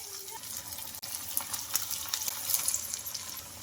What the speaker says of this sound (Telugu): ఆయిల్ కూడా హీట్ అయింది కదా, ఇలా నిదానంగా మనకు కడాయికి ఎన్ని పడితే అన్ని వేసుకోవాలి.